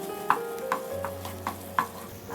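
Ginger, garlic and crushed green chili stirred in a pan, a spoon scraping in about five evenly spaced strokes over a low, steady sizzle, close and moderately loud with no talking.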